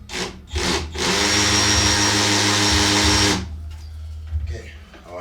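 A hammer drill bores into a brick wall while blinds are installed, one loud sustained burst of about two and a half seconds, near and steady, with brief tool noises before and after.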